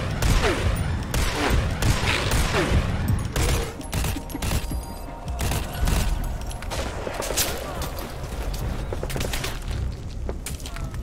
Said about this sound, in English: Boss, get down. The enemy sniper.